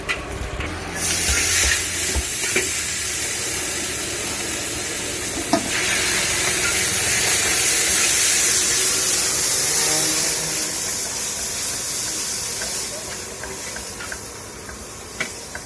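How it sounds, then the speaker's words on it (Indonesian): Mie goreng fried noodles cooking at a street food stall, with a steady loud sizzle and hiss from the pan, scraping and stirring clatter, and a busy background throughout. "Ini lagi buat mie goreng."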